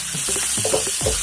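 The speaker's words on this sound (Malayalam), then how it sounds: "ഒരു 2-3 മിനിറ്റ് ഇങ്ങനെ വഴറ്റി കൊടുക്കാം." Toor dal stirred and sautéed in a hot pan for a Kerala sadya masala curry with koorka, a soft steady sizzle with scraping stir strokes close by.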